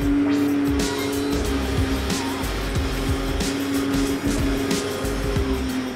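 A dual view dumper, a site dumper with a swivel seat, drives in the reverse direction. Its loud, steady diesel engine drone runs throughout, with a rhythmic knocking clatter layered over it.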